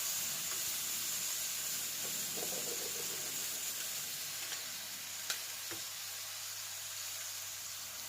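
Carrots stir-fried in a pan for rice vermicelli noodles give off a steady, moderately loud sizzle and hiss, with a few soft scrapes and clinks of a utensil and no talking.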